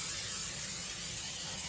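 A continuous close hiss of an aerosol cooking spray onto a baking pan, steady and unbroken for a second or two, with no voices.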